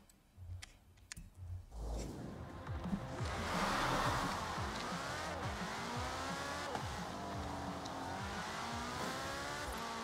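A Porsche driven in Forza Horizon 4 revs and accelerates through its gears, the engine note climbing in repeated sweeps and settling into a sustained, fairly loud drone, with a few clicks at the start.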